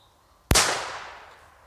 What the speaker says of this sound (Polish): Marza, dla porównania rzuć teraz szybko petardę, która ma pół grama